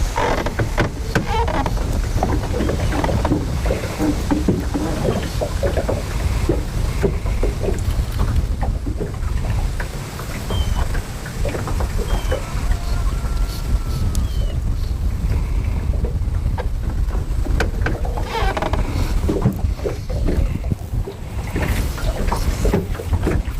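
Steady, blustery wind roars across the microphone while fishing on a lake from a boat, a continuous rumbling rush with gusty swells and faint water noise underneath.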